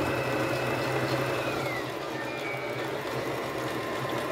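A Singer Start sewing machine runs continuously, stitching with a steady motor whir and rapid needle chatter, with a slight change in speed partway through.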